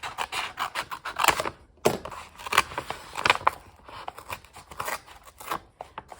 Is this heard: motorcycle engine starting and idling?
no